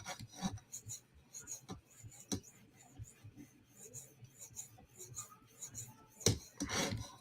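A PM2 tanto knife blade rasps back and forth on a sharpening stone in short, irregular strokes at close range, with a couple of louder scraping passes near the end.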